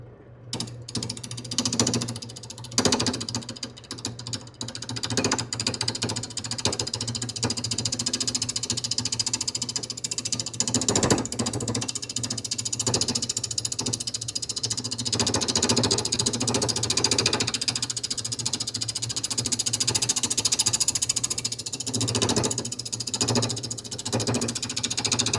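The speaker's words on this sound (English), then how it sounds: "now we're gonna start turning the bowl for real this time. Lathe on." Wood lathe switched on to turn an out-of-round bowl blank, producing a continuous mechanical whirr with rattling and knocking as the uneven workpiece spins, fairly close and steady, no speech.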